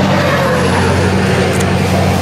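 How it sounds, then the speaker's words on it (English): A loud truck rumbles past an outdoor pop-up craft market, a heavy continuous low engine drone filling the whole moment, close and steady with no talking. "Loud truck."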